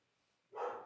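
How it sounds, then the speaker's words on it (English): A dog barks once in the background of a podcast recording, a short muffled burst that rises suddenly after a moment of near silence. "Sorry for the doggo barking insane."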